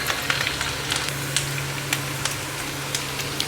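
Onions and ginger-garlic paste frying in oil for a chicken fry: a steady close sizzle with scattered small pops and crackles throughout, and no voices.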